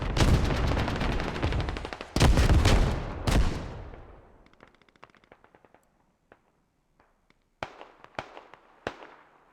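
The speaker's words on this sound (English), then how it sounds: "Neon should hear those gunshots right to his left." Gunfire in the game Squad, in a modded match of UN forces against insurgents: loud dense bursts of automatic fire at first, then sparse, fainter single shots, then a few sharp cracks near the end.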